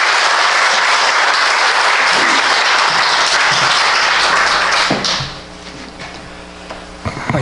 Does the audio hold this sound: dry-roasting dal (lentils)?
no